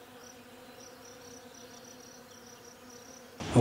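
Honeybees humming steadily around an opened hive with brood frames exposed, a dense continuous buzz close by, ending in a brief louder rustle or knock.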